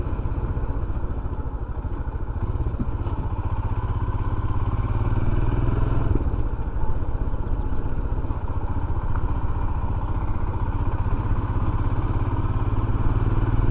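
Motorcycle ridden along a road in Cantá, Roraima, heading toward Boa Vista, its engine droning steadily and close with a low rumble and wind buffeting for the whole stretch.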